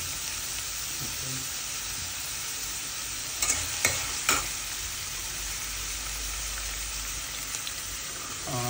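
Onion sautéing in a pan for egg bhurji, with a constant close sizzle and a few scraping stirs of the spatula partway through, and no talk.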